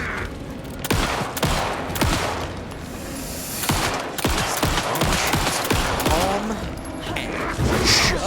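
Gunfire in Alan Wake 2 rings out as scattered loud single shots and sharp reports spread across several seconds amid rumbling game ambience, with people talking in between.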